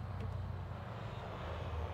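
A twin-engine Aerostar in a flight simulator drones steadily as the props are cycled, a continuous low engine hum with a slight dip in pitch, no voices over it.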